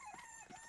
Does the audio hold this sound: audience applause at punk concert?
no